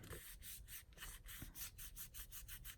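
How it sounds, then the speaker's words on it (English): A glued paper piece is burnished with a tool, making quiet rhythmic rubbing strokes, about five per second, steady and close with no talk. "I'm going to burnish this, let that glue set up nicely."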